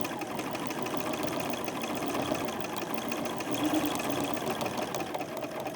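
A sewing machine stitches a Christmas wreath at a fairly quick, continuous pace, a close, steady mechanical whir and rapid needle chatter without pause or voices.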